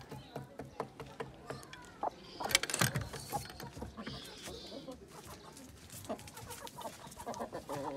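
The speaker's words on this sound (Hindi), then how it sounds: "अभी इस वाली मुर्गी को मैंने उठा लिया" Hens cluck repeatedly close by, with a burst of flapping and scuffling midway as one hen is picked up, while a person talks over the birds.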